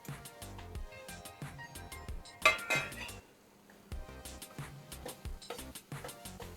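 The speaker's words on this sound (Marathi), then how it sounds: "आता या स्टेजला काय करायचं, हे बटाटे याच्यामध्ये घातले" Small potatoes for a Marathi aloo dum curry tumble into a cooking pan with clattering, clinking knocks against metal, a busy burst of impacts near the middle, then softer repeated clunks as they settle and are moved about.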